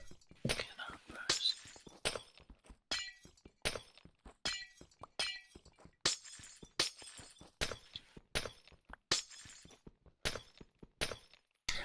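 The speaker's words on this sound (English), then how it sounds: "I love the sound of glass breaking" Glass blocks keep shattering in Minecraft, a long series of sharp, crisp breaking crashes and clinks that come one after another in irregular bursts, with a voice speaking faintly under some of them.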